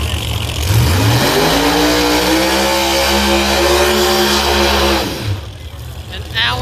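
A supercharged Camaro launches at a drag race, its engine climbing steeply in pitch and roaring loud and close for several seconds before cutting off abruptly.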